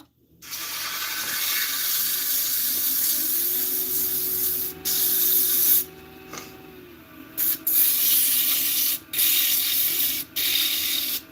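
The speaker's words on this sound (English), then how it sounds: "Of course, I make it a hassle to sand, because that's what I do." Sandpaper pressed against a spinning wood-turned gnome on a lathe gives a loud, close hiss under the machine's steady hum, running continuously, then breaking into short bursts as the paper is lifted and reapplied.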